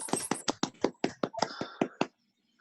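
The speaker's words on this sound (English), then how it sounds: "So give you a clap for her." About a dozen distinct hand claps at a town wetlands agency meeting, fairly quick and even in rhythm, close and moderately quiet, ending abruptly into near silence.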